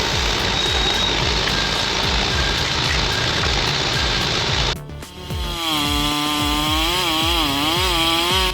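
A big chainsaw cuts through a black cherry tree log with a loud, close, continuous buzzing roar. It dips briefly midway, then revs again with a wavering pitch.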